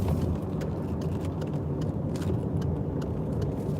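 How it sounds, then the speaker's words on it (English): Interior of a moving car, with a steady low engine and road rumble held at an even level throughout and faint rattles above it. "I am actually driving, so I've got to be careful"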